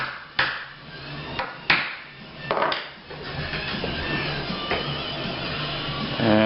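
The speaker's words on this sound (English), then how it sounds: "I'm going to use a hammer." A few sharp hammer taps ring out at uneven intervals while making a ferro rod, followed by a steady scraping, rustling noise.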